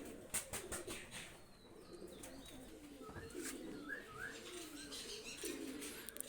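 Pakistani high-flyer pigeons coo softly in a loft, several low repeated calls with a few chirps and light rustling behind, fairly faint and without talk.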